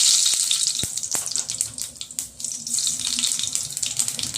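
Mustard seeds crackling in hot oil in a pan while cooking masala dosa fillings, a steady close hiss with a few sharp pops scattered through it.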